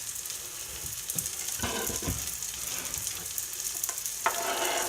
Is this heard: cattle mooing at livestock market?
no